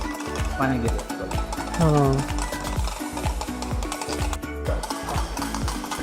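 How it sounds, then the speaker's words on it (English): Aioli being whisked as oil is incorporated, a rapid steady scraping and clicking of a whisk in a bowl, running continuously beneath a person speaking over it. "We whisk this well till all of the oil is well incorporated."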